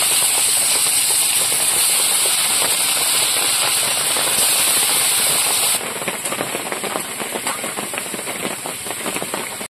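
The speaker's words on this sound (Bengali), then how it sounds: "এবার মাছগুলো ভাজা করে নেব।" Pomfret (river paira chanda) fish frying in a pan of hot oil, a loud, steady sizzling hiss that fills the whole clip, easing slightly partway through with crackling pops continuing.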